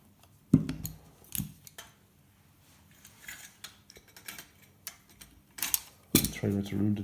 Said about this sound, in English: Cut that piece of wire off.